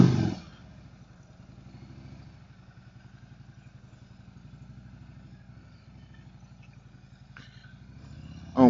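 A small 50cc motorbike rides around a neighborhood, its steady buzzing engine drone holding at a moderate distance for several seconds, with brief louder bursts at the start and end.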